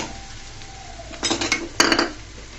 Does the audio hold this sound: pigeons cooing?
no